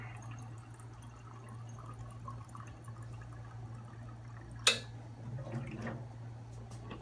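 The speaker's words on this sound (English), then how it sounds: "Get the water in the carafe." Water running into a coffee machine carafe, a soft, steady trickling pour that continues throughout, with one sharp clink partway through and no talking.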